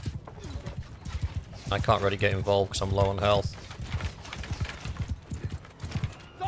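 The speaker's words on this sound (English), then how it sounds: "They're going to get smashed by that wall of horses in a minute." Galloping horses in a battle in the video game Mount & Blade II: Bannerlord, a rapid clip-clop of many hooves with a loud neigh in the middle, while someone talks over it.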